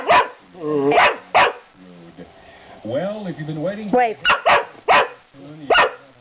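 A dog barks repeatedly in sharp bursts close by, mixed with a person giving short spoken commands between the barks.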